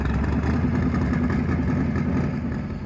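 A Chevrolet S10 race truck's engine drones loud and steady from inside the cab on a street-testing ride in Rockingham, North Carolina. The engine sound is close and continuous, easing off slightly at the end.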